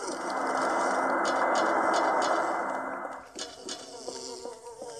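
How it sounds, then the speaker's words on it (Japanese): Flies buzzing in the video game Silent Hill 4, a dense, close droning hum that holds steadily for several seconds before fading, followed by scattered clicks and tonal game sounds. "ハエとゴースト、ハエとゴースト。"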